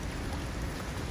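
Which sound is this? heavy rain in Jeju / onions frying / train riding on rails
heavy rain in Jeju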